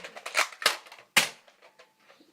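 Nerf blaster fired in close quarters, several sharp dry clicks and snaps in quick irregular succession, with one louder crack midway, close and fairly quiet.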